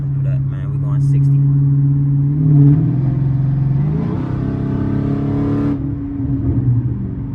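A Dodge Challenger SRT8 392 Scat Pack cruises at about 60 mph, its engine giving a steady low rumble with a brief rise in revs partway through, heard from inside the car with people talking over it.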